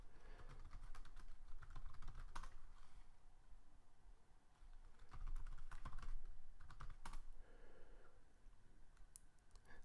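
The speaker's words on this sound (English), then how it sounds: "So let's go ahead and type in java-version." Fingers type the java -version command on a computer keyboard, a quick irregular run of clicking keystrokes with brief pauses and a few louder bursts, close and quiet, with no talk.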